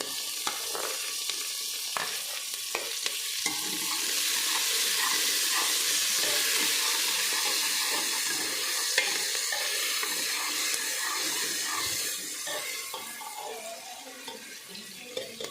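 Tomatoes and paneer stir-frying in a pan for a namkeen matar paneer pulao give a steady, loud sizzle and hiss, with a few spoon scrapes near the start and the sizzle rising and staying dense throughout, no talking.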